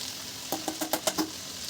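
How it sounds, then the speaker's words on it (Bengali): Tomato and vegetables being stir-fried in a pan for chowmein, a steady sizzle with a quick series of scraping stirs, close and moderately loud, no talking. "সব কিছু ভালোভাবে ভাজবো যাতে সিদ্ধ হয়ে যায়।"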